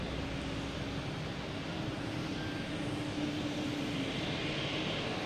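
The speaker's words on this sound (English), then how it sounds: "There it is, clear for takeoff, 15 right." Jet airliner taking off from runway 15 right at Boston Logan, a steady, broad, distant engine roar holding even throughout.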